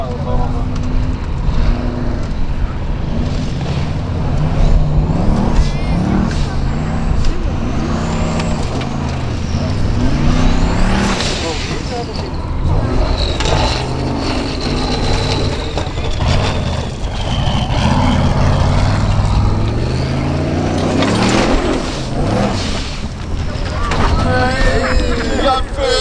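An engine of a Formula Offroad race car at an Icelandic track in Egilsstaðir revs and roars as it pulls away, loud and rising and falling, with a commentator talking over it throughout.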